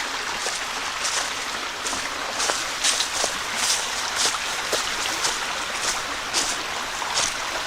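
A forest stream flows steadily beside a hiking trail in Pennsylvania's Snyder-Middleswarth Natural Area, a continuous close rushing wash with small splashy bursts and no voices.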